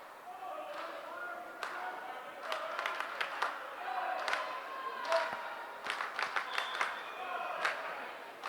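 A vocal Bethel Park crowd at a rivalry boys volleyball match, cheering and clapping in bursts in a gym, heard from the back under ongoing talk, with scattered sharp thuds of ball contact.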